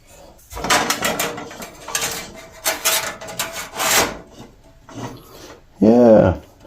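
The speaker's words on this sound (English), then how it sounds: "Got a little Scotch-Brite pad type deal." A Scotch-Brite pad scrubs old metal on a 1920s bus in uneven bursts of rough rasping, close and fairly loud, with a brief squeaky scrape near the end.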